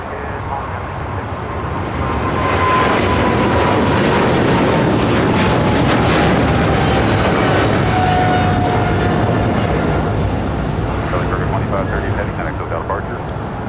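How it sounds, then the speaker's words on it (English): A China Southern Cargo Boeing 777 freighter bound for Guangzhou roars down the runway at LAX, a loud, sustained broadband engine rumble swelling and holding for many seconds, with a radio voice faintly underneath. "This is China Southern Cargo 2538 taking off to Guangzhou on a 777 freighter"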